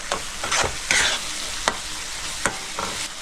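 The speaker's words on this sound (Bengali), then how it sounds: "সব মশলা দিয়ে আমি ভালো করে কষে নেবো।" Spices for a pangas fish curry are stirred and fried in oil in a pan, scraping spoon strokes in uneven bursts over a continuous close sizzle.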